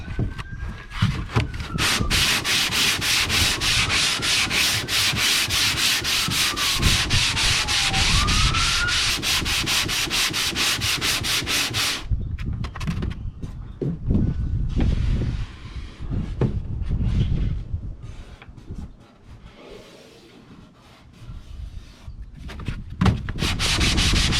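Steady, continuous rasping of a long sanding board rubbed back and forth across a boat hull, checking for low spots around patches, loud and close, with strokes becoming more uneven and broken toward the end.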